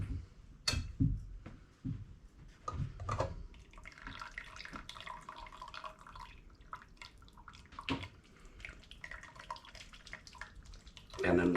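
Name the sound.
broth poured through a colander into another pot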